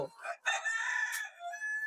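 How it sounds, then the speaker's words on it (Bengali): A native desi chicken on a poultry farm gives a short, close, drawn-out clucking call lasting under two seconds. "এই যে মুরগির ডাক এই যে দেন কক কক কক কক করতেছে"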